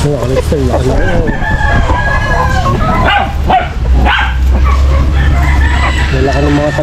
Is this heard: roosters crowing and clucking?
yes